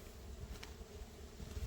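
Agitated honey bees buzz around an opened hive, a continuous close swarm hum with individual bees whining past, steady and fairly quiet.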